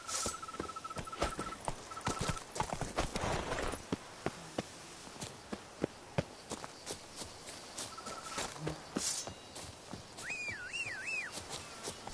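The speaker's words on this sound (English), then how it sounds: "Whoa there, Roach" A horse gallops in The Witcher 3 game. Its hooves make a rhythmic series of clip-clop beats, with scattered game sounds and a brief whistling tone near the end.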